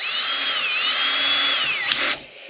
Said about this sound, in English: So I'm going to just drill my small hole from the inside